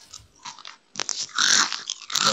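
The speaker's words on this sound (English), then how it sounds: "How loud is my crunching?" Someone crunches cereal close to the microphone, with bursts of loud chewing and crackling separated by brief pauses, and no talk over it.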